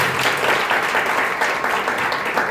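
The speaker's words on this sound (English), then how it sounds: "We should clap loudly." An audience at a talk applauds loudly, a thick continuous roar of clapping hands that holds steady for a couple of seconds with faint voices mixed in.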